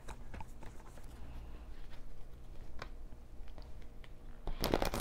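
Tarot cards are shuffled by hand in a quiet room, soft rapid riffling patter with light ticks, close and faint, ending in a brief louder flurry.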